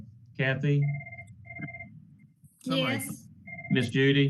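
A mobile phone rings briefly during a roll call vote at a county board of education meeting, with two short ringtone tones sounding between several people's spoken replies.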